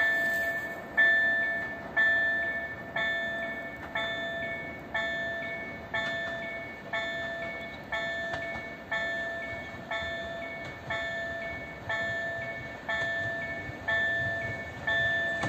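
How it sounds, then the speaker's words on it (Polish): Koleje Mazowieckie train moving very slowly through Warszawa Reduta Ordona station, a regular once-a-second metallic clack with a ringing tone over a low steady rumble, no voices. "Nadciąga kolejny skład."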